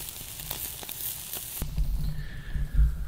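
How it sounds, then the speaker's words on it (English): A ribeye steak sizzles on an outdoor grill, a faint, steady hiss of frying fat broken by a few soft crackles and pops close by, with no talk. "So, ribeye on the grill."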